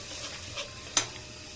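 Roasted garam masala is stirred with chicken feet and cabbage in a pan, a soft sizzle with faint scraping and one brief clink of the utensil, quiet and close.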